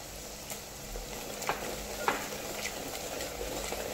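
Masala frying in plenty of oil for Kolhapuri tambda rassa, stirred steadily in the pan: a continuous sizzle with scattered scraping taps of the spoon, moderately close, with no voices.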